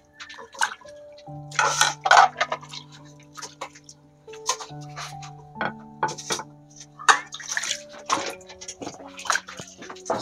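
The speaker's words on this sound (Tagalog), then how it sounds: "Nagbuhugas ng plato si nanay" Dishes being washed by hand with water at a home where water is drawn from a well: clinks of plates and cutlery, splashes and drips recur through the scene, close by, and a tonal hum sits underneath.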